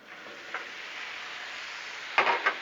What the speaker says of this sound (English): Man, listen to that sizzle.